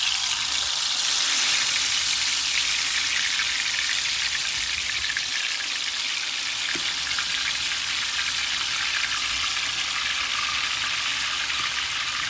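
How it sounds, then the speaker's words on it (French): Blended cassava-leaf ingredients for saka saka hitting hot oil in a pan, a loud, steady hiss and crackle of frying that continues evenly throughout, no talk. "L'huile est assez chaude pour incorporer mes ingrédients que j'ai mixés."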